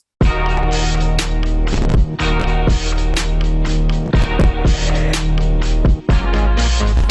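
A song plays back loud and dense, driven by a heavy Arturia Mini Moog synth bass line under punchy, rhythmic drum hits and sustained harmonic layers, with short dropouts between phrases.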